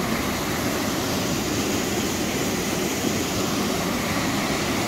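Dolgoch Falls, a waterfall in mid Wales, roaring as a steady, dense wash of falling water that holds without a break.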